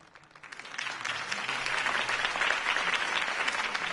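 Cartoon crowd applause swells in after a quiet moment and holds steady, a dense, sustained clapping from many people.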